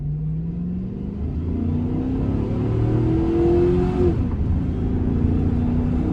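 An old car's engine, running for the first time in seven years, hums steadily while driving, its pitch rising smoothly as it accelerates, then dropping briefly before settling into a steady run.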